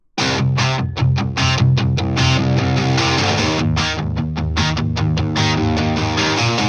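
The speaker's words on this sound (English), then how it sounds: "And then we have the rock guitars," Loud distorted rock guitars in an electronic music remix, playing steady, dense power chords with rhythmic stabs and short gaps, close and full, with no voices over them.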